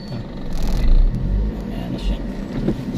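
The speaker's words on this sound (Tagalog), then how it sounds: "May tricycle." A motorized tricycle passing on a street, its engine a low rumbling drone that swells briefly and then eases, with people talking over it.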